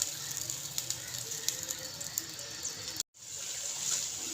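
Onion, ginger and garlic paste frying on medium heat in a pan, a steady soft sizzle with faint crackles and a brief interruption before the sizzling resumes.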